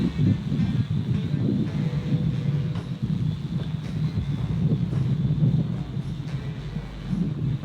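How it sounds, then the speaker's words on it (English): Strong wind gusting outdoors near water, a steady loud low rumble of buffeting across the whole stretch with no break. "the wind is really blowing. Really kicking right now"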